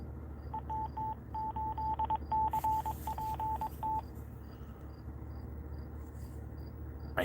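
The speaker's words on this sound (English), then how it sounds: "I hear that every time I turn on the radio, and it's my call sign in Morse code" A ham radio beeps out a call sign in Morse code at switch-on, a string of short and long tones for about four seconds, then falls silent, over a steady hiss and faint chirping.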